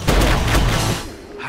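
Gunfire sound effect in a zombie movie trailer, a dense burst of rapid shots and booms for about a second that rings out and fades.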